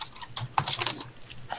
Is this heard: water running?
no